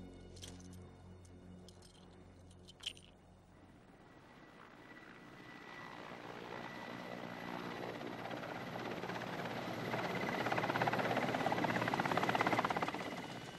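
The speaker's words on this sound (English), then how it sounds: "they can only await the helicopter's return" A helicopter's rotor drone swells steadily from faint to loud as it approaches over snowy tiger habitat, a low continuous throbbing with a brief knock near the start.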